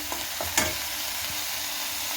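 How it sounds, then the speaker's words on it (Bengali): Whole garam masala frying in the oil left from frying fish for a doi katla curry, a steady close sizzle broken by a few quick scraping strokes of a spoon stirring the pan. "এবার মাছ ভাজা তেলে দিয়ে দিতে হবে গোটা গরম মশলা। মশলাটা একটু নেড়ে চেড়ে"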